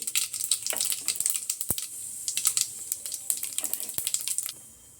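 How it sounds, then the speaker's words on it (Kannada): Mustard seeds and cumin crackle and pop in hot oil with a continuous sizzle, dense bursts of spattering close by and a few sharp clicks. "ಈಗ ಎಣ್ಣೆ ಕಾದಿದೆ, ಇದಕ್ಕೆ ಒಗ್ಗರಣೆ ಕೊಟ್ಕೋಬೇಕು"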